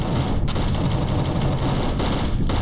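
Gunshots in the video game The Suffering, with quick repeated sharp cracks over a dense, loud rumbling background that runs throughout.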